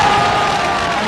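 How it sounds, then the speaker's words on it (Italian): Dense, steady crowd applause at an outdoor band concert in Muravera, loud and continuous with no gaps and no voices standing out. "Già non ve le scrociate le mani per fare un applauso."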